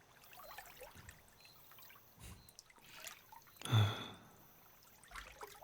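Water trickles and drips softly during a fantasy bath scene, quiet and close with faint gurgles and one louder splashy slosh near the middle.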